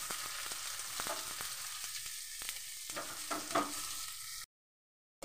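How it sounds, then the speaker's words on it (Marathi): Chopped onion and garlic sizzle steadily in hot oil in a pan, with a dense, continuous crackle and a few soft stirring knocks, before the sound cuts to silence near the end. "चांगला फ्राय करून घेते कांदा।"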